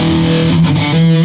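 An 80s-style phaser guitar tone played through a BOSS eBand JS-10 amp, a loud sustained distorted chord that wobbles and sweeps for about a second.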